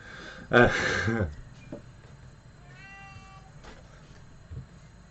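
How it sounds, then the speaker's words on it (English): A cat gives one loud, drawn-out meow up close, followed by quieter background rustles and a faint chirpy tone. "And there's the cat meowing even louder."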